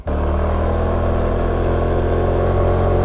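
Stock Honda XRM motard motorcycle engine strains uphill in first gear on a steep road, a loud, steady droning rev held close for a few seconds after a brief start.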